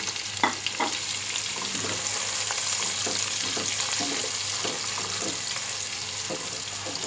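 Sliced onions fry in a pan with a steady, close sizzle, broken by light scattered clicks of stirring throughout.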